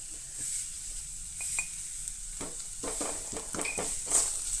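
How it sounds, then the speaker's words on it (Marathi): Turmeric being stirred into onions frying in a pan, with a steady sizzle underneath and intermittent scraping strokes of the spoon, close and moderately loud. "सो हळद जी आसा ती मिक्स करून घेया"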